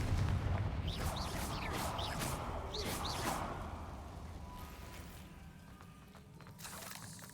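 A Confringo fire spell explodes in Hogwarts Legacy, a dense booming burst with crackling debris during a spider fight, then fading rumble and scattered whooshing effects under continuous game noise.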